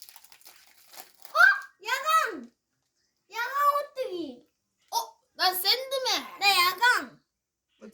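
Crinkly snack wrapper being torn open in short crackling bursts, interleaved with a child's chatter close to the mic.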